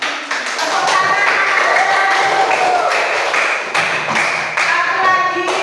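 A group, likely schoolchildren in a classroom, claps hands loudly and close by in a dense burst, with a few voices and cheers rising over the clapping.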